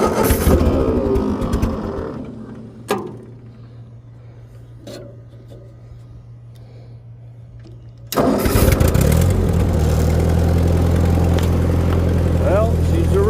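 An 80-year-old Ford 2N tractor's engine churns, falls quiet with a couple of sharp clunks, then catches and settles into a loud, steady close-up idle, with a voice speaking over the running engine.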